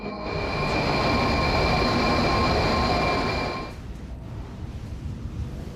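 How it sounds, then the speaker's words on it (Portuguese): A Moscow metro train pulls into the station with a loud rumbling roar, steady tonal whine and rail noise, then cuts off and fades to quieter platform ambience. "o metrô já está entrando na estação"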